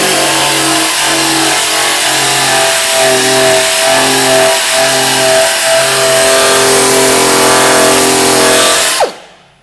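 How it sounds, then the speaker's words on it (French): A rotating wire brush spins against rusty metal on a 1962 Renault 4L, producing a loud, continuous whirring drone with a pulsing, rough grind that runs steadily and then winds down abruptly at the end. "Et là en fait ça tourne et c'est une brosse métallique qui tourne."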